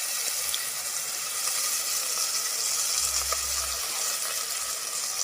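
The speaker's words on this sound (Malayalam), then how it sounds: "പിന്നെ നമ്മുടെ ഈ പൊടികളെല്ലാം കൂടി അരച്ച് വെച്ചിരിക്കുന്നത് ആ അടുപ്പിലിരിക്കുന്നതിലേക്ക് ഒഴിക്കാം" Ground spice paste poured into a hot pan on a stove hisses in a steady, close sizzle, with a brief low thump partway through. No one speaks.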